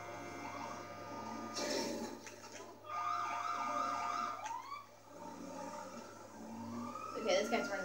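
A police car siren wails in GTA 5 with rising and falling tones that come and go in bursts, moderately loud amid game engine noise and a low steady hum.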